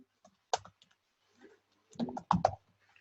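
A few soft computer keyboard keystrokes, a lone click and then a quick cluster of taps, quiet and close.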